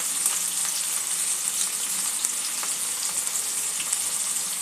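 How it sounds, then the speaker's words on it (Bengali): Onions and tomatoes fry with salt in a pan for an egg curry, giving a steady, close sizzle with a constant hiss throughout and no talking. "পেঁয়াজ আর টমেটোটা একটু নরম হওয়া পর্যন্ত ভেজে নেব।"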